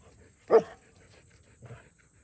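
Dog barking nearby, one loud sharp bark followed by a softer, shorter second bark about a second later, with quiet surroundings between them.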